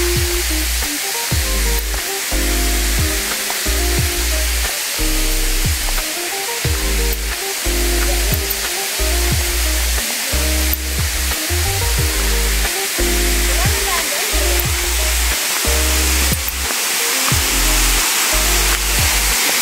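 Steady broadband rush of a high waterfall on a titled farm lot in Guinyangan, Quezon, loud and continuous with some low rumbling tones mixed in throughout, no talk.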